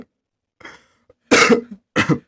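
A few harsh coughs, one faint then two loud, close bursts separated by short pauses, with no talking.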